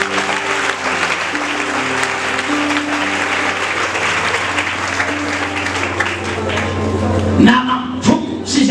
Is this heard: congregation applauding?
yes